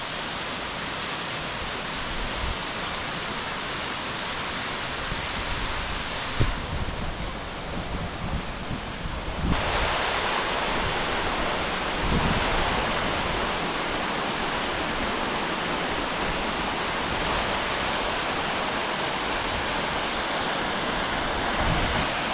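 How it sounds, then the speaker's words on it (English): Meltwater streams from a small Alaskan glacier tumbling downhill into falls, a steady, loud, full-bodied rush and roar that continues unbroken, with brief gusty swells. "Streams that are running down underneath this glacier"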